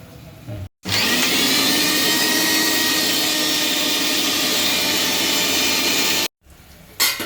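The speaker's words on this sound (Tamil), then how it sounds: "நம்ம வதக்கி வச்சுருந்த மசாலாவை ஒரு சின்ன மிக்சி ஜாரில் சேர்த்து அரைச்சிடுறோம்" A small mixer grinder jar blends sautéed masala into paste for jeeragasamba chicken biryani, running as one loud, steady whir of about five seconds, with brief pauses as it starts and stops.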